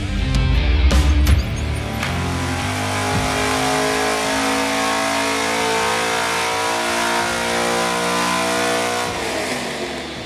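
An LS V8 on a test stand, fitted with FAST LSXr mid-length intake runners, roars at high steady revs after a sharp opening blip, holding a loud, dense engine note for several seconds before easing off near the end.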